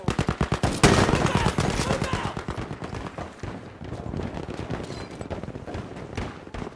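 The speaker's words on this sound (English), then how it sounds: "Lay down suppressing fire" Rapid suppressing gunfire in Battlefield 5, dense automatic bursts crackling steadily for several seconds, loud and close, with a heavier shot near the start and the rhythm easing slightly toward the end.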